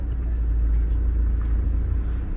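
Steady, loud road traffic on the route between Turkey and Germany: a continuous low rumble of cars and trucks rolling past close by, with no voices over it.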